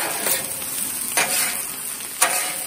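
Fried rice and vegetables sizzling loudly on a hot Blackstone griddle, a constant close hiss broken by a few scraping stirs of a spatula.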